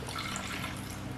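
Cold water poured steadily for low-carb bread roll dough, a continuous broadband splashing stream close by, holding level throughout the short stretch with no talk.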